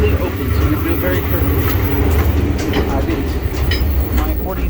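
The Chepe railway train, with open-air carriages, rolls along near Creel, Chihuahua, with a loud, continuous low rumble and a faint rattling of the carriages that holds steady throughout.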